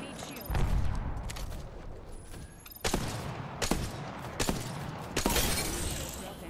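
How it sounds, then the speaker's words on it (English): Thermite grenades tossed in the battle-royale shooter Apex Legends, heard as several sharp crackling bursts and shattering impacts spaced a second or so apart, with gunfire and a faint voice in between. "Throwing thermite grenades."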